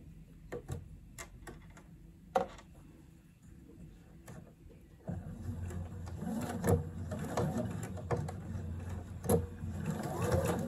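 Sewing machine stitching a blouse seam near the underarm, first a few sparse clicks and taps, then a faster, busier mechanical whir of stitching that runs on to the end, close and fairly quiet.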